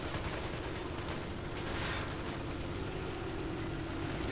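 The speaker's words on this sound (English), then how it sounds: "we're taking sniper fire" Sniper fire in a war game running the RobZ Realism Mod rings out as a single sharp shot standing out briefly from a dense, continuous roar of distant battle noise.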